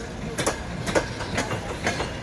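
A ChS4 electric locomotive hauls a passenger train past, with rhythmic clickety-clack wheel beats over a continuous rolling rumble, moderately loud and fairly close.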